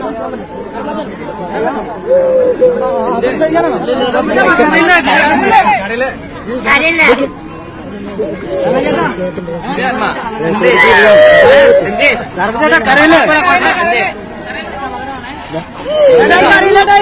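Dense, loud crowd chatter of many overlapping voices surrounding a man waiting among the gathering, continuous babble with no single speaker standing out.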